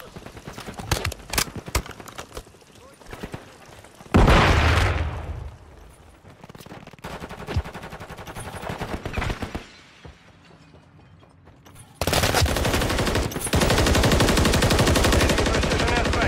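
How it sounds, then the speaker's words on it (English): Rapid automatic gunfire and explosive blasts fill a Call of Duty Modern Warfare III match, loud and dense, with bursts broken by brief lulls and then a sustained heavy barrage near the end. "A lot of shots going that way."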